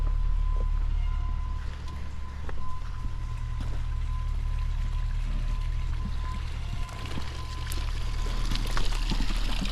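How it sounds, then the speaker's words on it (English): Pond water begins running through a drainage outlet outdoors, a steady continuous rushing flow with a low rumbling undertone, constant and fairly loud without pauses. "The pond has begun running."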